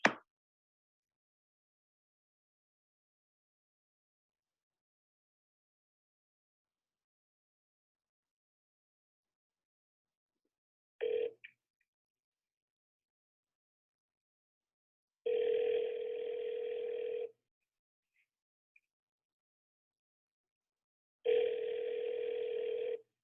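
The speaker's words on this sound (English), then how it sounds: "so I'm going to go ahead and dial the next one." Outgoing sales call to a lead: a short tone, then two long, steady telephone ring tones a few seconds apart, each alone against silence.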